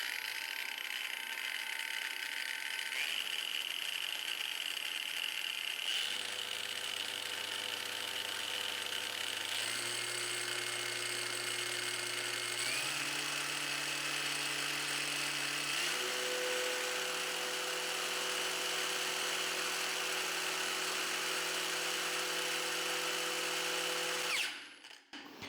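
A Parkside PWSAP 20-Li G7 cordless angle grinder runs at full no-load speed, its close, loud whine stepping upward in pitch in several stages before cutting off sharply near the end.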